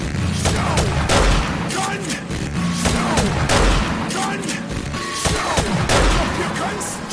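Gunfire in Modern Warfare Remastered: rapid bursts and volleys of loud shots, close and continuous, with a few heavier booms, over music.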